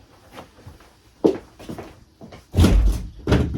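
A household door is opened with a knock and a few thuds, then heavier bumps and rattles toward the end, close by in a quiet room.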